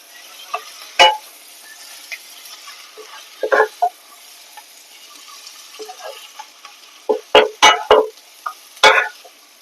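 Potatoes mixed with onion, ginger-garlic paste and spices are stirred in a kadai, producing a soft background sizzle broken by sharp scraping strokes of a spoon, sparse at first and clustering into quick bursts near the end.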